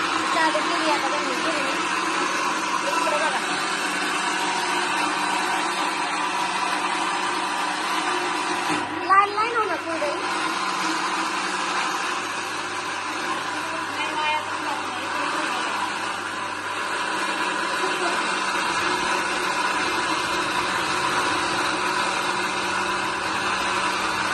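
Flour mill grinding soaked wheat for making kurdai, a steady loud mechanical drone running throughout with a brief clatter partway, voices talking over it.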